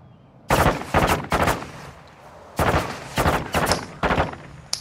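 Bursts of automatic gunfire in the video game Call of Duty: Modern Warfare II, several loud, close rapid volleys separated by short pauses, with no talk over them.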